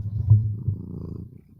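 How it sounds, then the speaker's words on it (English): A cat lying in someone's lap purrs close up with a steady, low rumbling that fades toward the end. "Or you can hear her purrs even."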